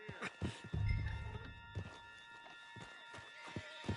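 Horse sounds in Red Dead Redemption: close clip-clopping hoofbeats and snorting with a short whinny-like burst, under soft game ambience and a faint voice.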